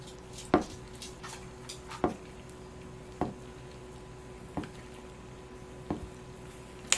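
A 500 g supermarket tofu block is cut into large pieces with a knife. Five evenly spaced, crisp knocks of the blade striking the cutting board carry over quiet room tone, with no talking.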